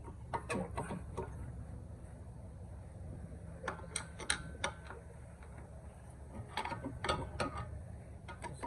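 Ratchet wrench working loose the front brake caliper on a Dodge Challenger: bursts of rapid clicking pawl strokes in three separate runs, close and distinct over low hum.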